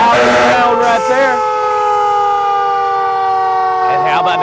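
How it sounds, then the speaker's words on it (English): Lawrence County fire rescue truck siren wails loudly and close at a Christmas parade in Dexter, a sustained rising and falling tone with a crowd murmuring underneath. "Lawrence County Fire Rescue coming through."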